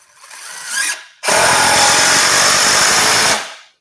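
A power drill drives screws into wall framing studs to brace a wall, giving a short whir, a pause, then a loud sustained grinding run that winds down, close by.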